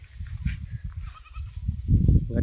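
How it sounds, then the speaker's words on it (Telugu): Sheep grazing heavily in a flock, with low, repeated bleats close by over continuous chewing and shuffling, growing louder toward the end. "గొర్రెలు ఎట్ట ఉన్నాయి ఫ్రెండ్స్ చూసి చెప్పండి."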